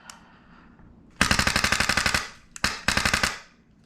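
A Polarstar Kythera airsoft gun fires rapid, speed-triggered bursts, a long string of sharp close shots, a brief pause, then a second shorter burst.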